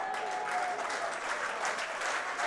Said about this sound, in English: Round of applause for Vangana.